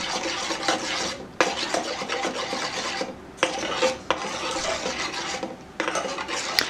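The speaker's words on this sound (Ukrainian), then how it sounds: "Гарно перемішуємо все до повного розчинення желатину." Steady scraping and rasping of a utensil stirring a gelatin mixture in a pot, continuous with a few short breaks, close up.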